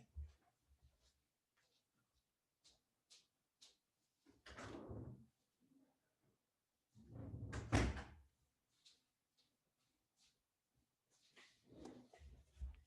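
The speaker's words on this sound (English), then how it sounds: "Let me open my door because my cat gets stuck in my studio." A door in a home studio being opened to let a cat out, heard as a few soft, close bumps and handling noises in an otherwise quiet room, with no talking.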